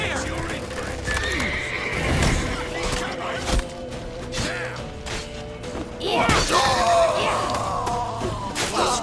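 A horse in The Witcher 3 video game neighs loudly twice amid galloping hooves, crashes and battle noise, while characters shout over the action.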